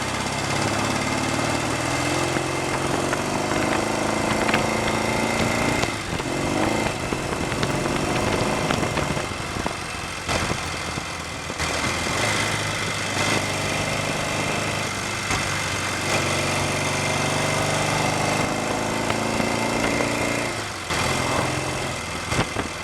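A Royal Enfield Interceptor 750 twin runs steadily under load in top gear with clutch trouble, its engine drone continuous and close throughout with slight rises and dips in pitch, no talking over it.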